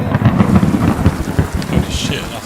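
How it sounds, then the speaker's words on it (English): Heavy thunder rumbling through a storm in Kingdom Come: Deliverance II, deep rolling booms beneath constant rain, loud and continuous. "Loud thunder."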